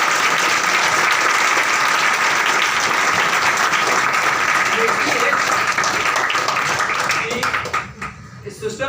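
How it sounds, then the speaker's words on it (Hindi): Audience applause at an event, loud sustained clapping from a large crowd that thins out near the end as talk resumes. "एक ग्रेट ताली जो हम चाहेंगे"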